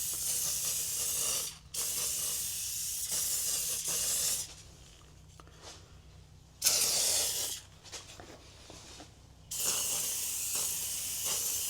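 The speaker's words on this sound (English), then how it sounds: "Yep, it sprays kind of crappy." An aerosol spray can with sputtering, weak propellant mists onto a transmission during cleaning, in several loud hissing bursts separated by short pauses.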